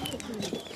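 Pigeons cooing softly at a nest holding eggs and small chicks, a low continuous murmur of coos close by with faint background hiss.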